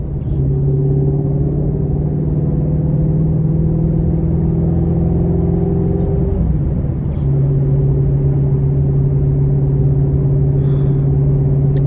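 A 2020 Shelby GT350 sports car with its Ford V8 engine cruises at low speed, a loud, steady low rumble with a brief shift in tone midway, heard from inside the cabin without talking.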